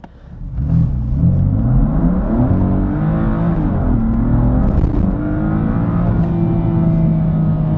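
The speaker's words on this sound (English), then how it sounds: "we're gonna do a takeoff right now and see how this car behaves with the fastest shifting on dry." A 2017 BMW M3 launches from a standstill in Sport Plus mode on dry pavement, its engine climbing through loud, rising revs with rapid gear shifts. The roar is heard close up from inside, steady and dominant, with no talk.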